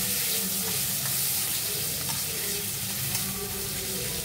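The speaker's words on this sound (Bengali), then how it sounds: "এই রসুন কটা ফোড়নে দিয়ে দিলাম" Chopped garlic hits hot oil as a tempering for a yogurt chicken curry, giving a close, steady sizzle and crackle with a light stirring rustle throughout.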